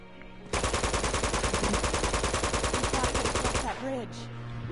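Sustained rapid gunfire in the video game Uncharted from the Nathan Drake Collection, a loud, close, evenly pulsing automatic burst lasting several seconds before cutting off, followed by faint game sounds.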